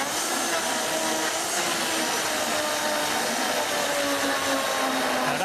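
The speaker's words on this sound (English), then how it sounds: "So I'll just give that a blend." A countertop blender runs steadily on tofu for several seconds, a loud, continuous motor whir with a churning wash and a faint rising tone, with no voices over it.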